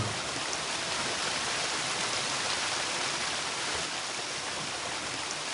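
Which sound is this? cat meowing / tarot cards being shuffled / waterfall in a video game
waterfall in a video game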